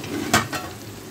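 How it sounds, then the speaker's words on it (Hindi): A spoon stirs cauliflower and potato curry in a pan, making two quick scraping strokes over a soft background sizzle, close and brief, without speech. "चम्मच चलाएं इसको।"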